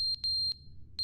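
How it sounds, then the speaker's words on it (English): Sharp high electronic beeps from a smoke alarm inside The Stanley Parable video game, several quick chirps in an uneven pattern over a quiet low hum. "the battery at the smoke alarm has turned off"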